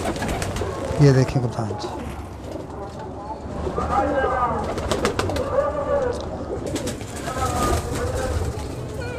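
Pigeons coo repeatedly in soft, throaty bursts while someone speaks nearby, with some faint rustling in the background.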